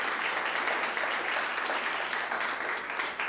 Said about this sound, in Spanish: Démosle un aplauso a ese Jesús